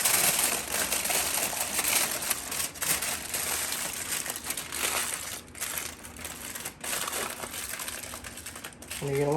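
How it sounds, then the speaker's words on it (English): Aluminium foil being folded and crinkled by hand while preparing rainbow trout for baking, a close, dense, continuous crackling and rustling that runs steadily throughout. "You're gonna want to fold up this foil."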